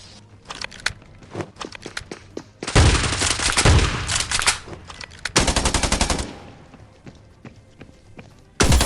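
Gunfire in the Scarfall 2.0 mobile game on the Mumbai map, with scattered single shots and then loud sustained automatic bursts, broken by short gaps and close in the mix.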